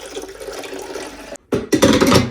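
Water is poured into a coffee machine's reservoir, a close splashing trickle that stops briefly and then resumes more strongly.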